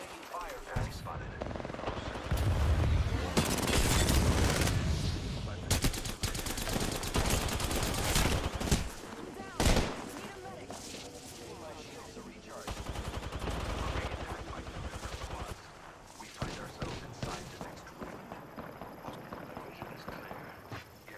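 Gunfire from Rainbow Six Siege crackles in dense, rapid bursts, with loud clustered volleys early on, then scattered shots and a later burst, mixed with game noise and some voices.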